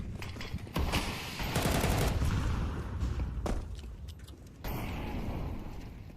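Galil and AK rifles fire in a Counter-Strike match as loud, rapid bursts of automatic gunfire, several guns overlapping in dense volleys with brief drops between them.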